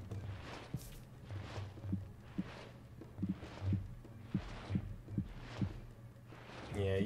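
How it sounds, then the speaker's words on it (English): A heartbeat from the fantasy game Disciples Liberation thumps low and steady, about one beat per second, in soft paired pulses under a faint ambient hum. "I can hear your heartbeat."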